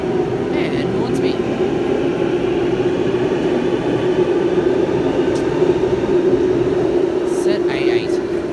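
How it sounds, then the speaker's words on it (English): A Sydney Trains train departs the platform at Epping station, giving a loud, steady rumble and hum throughout, with a few faint higher clatters. "Now departing platform number 6 for the Brunswick service"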